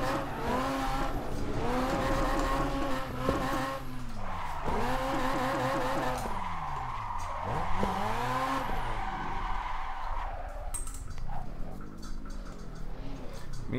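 A drifting R34 in Assetto Corsa, turbos turned up, revs hard with rising and falling engine pitch and squealing tires through repeated slides, loud and continuous.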